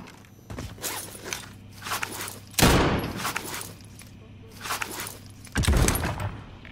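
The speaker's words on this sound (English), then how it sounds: "Shots from east." Gunfire in Call of Duty: Warzone on Rebirth Island: several separate bursts of shots, some sharp and close, others more distant, spread across the moment with little talk.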